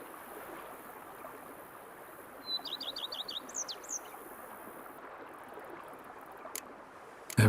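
A bird in The Witcher 3: Wild Hunt gives a short, quick series of faint chirps and trills over a steady outdoor hush like running water. The calls are distant and brief.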